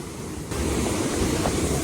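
A constant roar of rushing water fills the air, swelling louder after a brief moment, loud and close.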